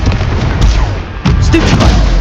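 A Confringo spell blast in the Hogwarts Legacy video game lands as a booming burst amid dense, loud combat effects, with a second impact about midway through.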